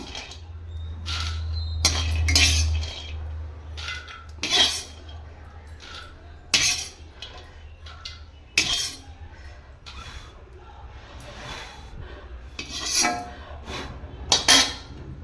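Utensils scrape and clink against plates as apple, beetroot and carrot malt mixture is moved to another plate, a string of scattered clatters and taps close by, with a low hum early on.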